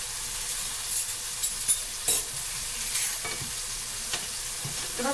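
Minced garlic sizzles steadily in hot oil in a pan, a continuous frying hiss with a few soft stirring scrapes and bumps, close and alone with no voices.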